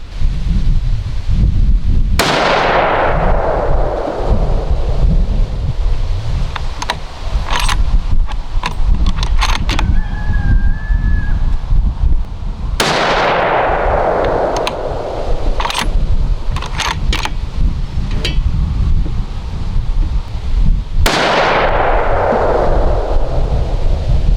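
Three loud 6.5 Creedmoor rifle shots firing 125-grain Winchester Deer Season XP ammunition, spaced roughly ten seconds apart, each a sharp crack with a long rolling echo over steady outdoor wind noise, with faint clicks between shots.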